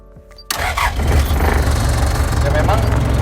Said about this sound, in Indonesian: Ya memang suaranya bising ya, khas-khas diesel zaman dulu, memang bising.